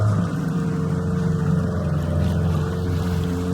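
A fishing boat's engine running steadily on rough sea, a loud continuous droning hum with a fixed low pitch and a wash of water noise beneath it.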